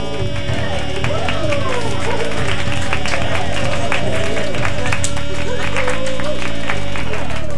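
A talk show studio audience applauding and cheering for the host: dense, loud, continuous clapping and crowd noise sustained throughout, with music underneath.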